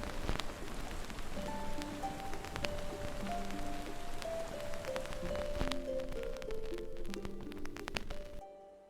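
Rain patters steadily on a surface alongside soft, sparse harp notes in a gentle ambient texture, then cuts off abruptly near the end.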